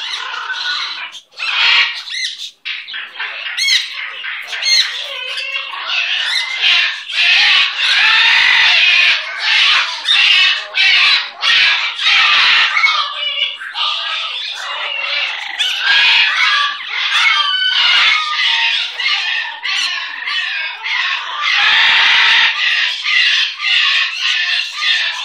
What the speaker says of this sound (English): You're an amazing little bird.